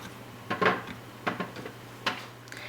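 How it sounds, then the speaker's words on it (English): Cut vegetable pieces tossed into a roasting pan, giving a few light, hollow clattering knocks in quick clusters, close by and fairly quiet, with no talk. "once you cut them up, you're just going to toss them into the pan"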